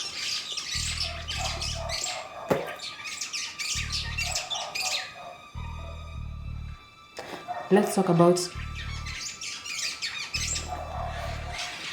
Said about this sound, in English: what's up with the birds? They're scaring me.